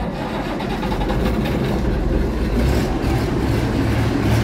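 A Massey Ferguson 1135 tractor, parked up for months, cranks over in the dark with a dense, continuous mechanical churn at close range, no voices over it.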